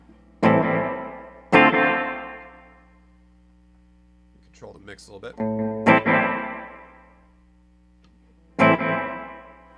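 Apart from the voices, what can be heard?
guitar pedal dual reverb, room sound with pre-delay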